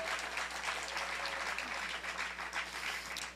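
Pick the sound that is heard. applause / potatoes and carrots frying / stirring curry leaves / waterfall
applause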